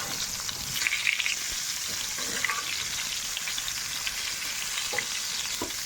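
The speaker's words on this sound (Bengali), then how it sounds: "বেগুনটা একটু ভাজা হোক তারপর বেগুনটা ভাজা হতে থাকুক" Brinjal (eggplant) slices frying in oil in a pan, a steady dense sizzle and crackle running throughout with a few faint spatters, close and continuous, no voices.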